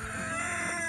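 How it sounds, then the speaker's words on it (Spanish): A rooster among a flock of hens sounds close by in a brief one-second burst, a dense harsh crowing call over farmyard background noise. "mira el gallo."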